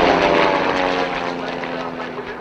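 Aerobatic team aircraft, including an Edge 540, fly at the Old Buckenham airshow, their propeller engines giving a loud, continuous droning roar that holds steady and fades slightly.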